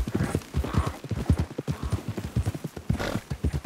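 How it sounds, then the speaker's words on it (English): A horse gallops in the video game Red Dead Redemption 2. Its fast, rhythmic hoofbeats pound close and loud throughout, with no talking. "I think my horse is bigger than Lenny's horse"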